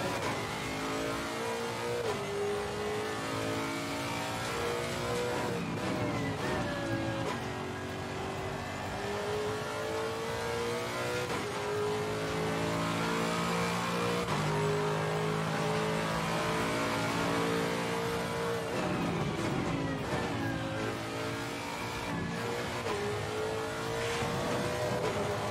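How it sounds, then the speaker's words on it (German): A race car engine in a racing video game, revving hard and climbing through gear after gear, its loud, continuous whine rising and dropping repeatedly with no voices over it. "Ich muss ein bisschen Gas geben."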